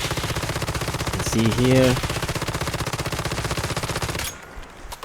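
Rapid automatic gunfire from a weapon in a shooter game, a steady rattling stream of shots that runs for several seconds and then cuts off, with someone speaking briefly over it.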